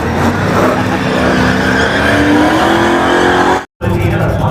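A Pontiac race car at the drag strip at Summit Motorsports Park roars at full throttle, a loud, sustained engine howl with rising pitch and tire noise, briefly cutting out near the end before resuming.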